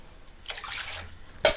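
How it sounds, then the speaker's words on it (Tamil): Water poured from a tumbler into raw rice in a cooking pot for vegetable rice: a short, soft splashing pour, then a brief louder splash at the end, close up with no talking. "இப்போ வந்து நான் தண்ணி ஊற்றிக்கிறேன்"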